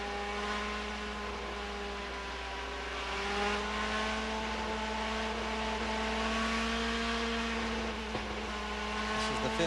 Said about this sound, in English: We'll listen to the revs come up, and we'll just listen to the sounds here as we restart racing competition at Homestead-Miami.